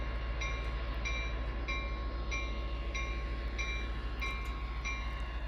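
An Amtrak P42 diesel locomotive sound set in the Train Sim 2022 video game gives a steady, loud engine rumble with a constant tonal hum and faint, evenly spaced clicking over it; no speech.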